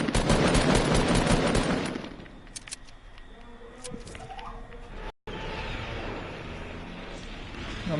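Fortnite gunfire during a Team Rumble match: a dense burst of rapid automatic shots for about two seconds, then scattered single shots and game noise trailing off.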